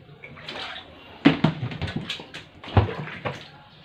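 Mung beans sloshing and splashing in a container of soaking water, a series of close wet stirring bursts with two sharper splashes, while soft voices murmur in the background.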